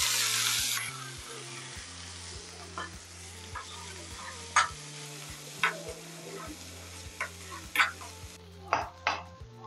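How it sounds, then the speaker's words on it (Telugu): Whole wheat pasta and sweet corn fry in coconut oil in a pan: a steady close sizzle with sharp stirring scrapes and clicks, a low hum under it and no talk. "సో ఇది ఒక 2 minutes ఫ్రై అయితే సరిపోతుంది"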